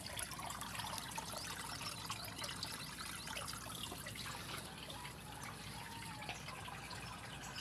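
Water flows into a crab pond through an inlet at high tide, a steady broadband rush and trickle that stays constant and fairly close throughout, with no voices.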